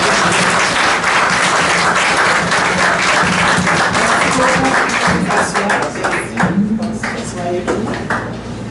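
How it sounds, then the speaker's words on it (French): A church congregation at a Sunday service applauds, loud dense clapping filling the room for several seconds before thinning out as a voice and a few ringing tones emerge. "je demande à la Sainte Assemblée d'applaudir ceux qui sont venus"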